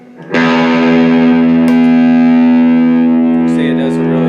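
Electric guitar played through an AA Fuzz mini fuzz pedal with the fuzz engaged, aiming for a bluesy tone: one loud, sustained distorted chord rings out thick with harmonics and slowly decays, a pick scrape near the end.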